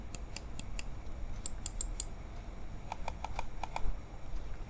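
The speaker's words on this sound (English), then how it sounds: "Also, with regard to clicks, this mouse gives off nice," Button clicks from a MorroLogic Chrome Shark computer mouse: two bursts of sharp, crisp clicks, about five evenly spaced then a tighter run of five or six, close and clear over a quiet background with no talking.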